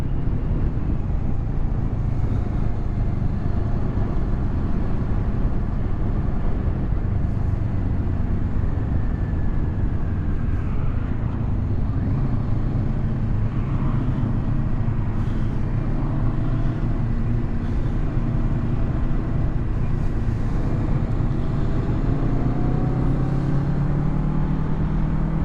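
Engine of a 2023 Kawasaki Z650 naked motorcycle while riding down a road: a steady, continuous engine drone mixed with heavy wind rush at the microphone, unbroken for the whole stretch with no talking.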